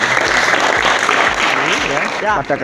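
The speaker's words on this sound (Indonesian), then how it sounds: "Tepuk tangan untuk kita semua" A vocational school class at SMK Negeri 1 Gombong applauds together, steady group clapping running throughout under a teacher's voice speaking over it.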